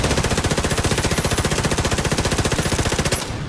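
Sustained rapid automatic gunfire in The Division 2, a loud, dense burst of evenly spaced shots running about three seconds before cutting off, with no talk.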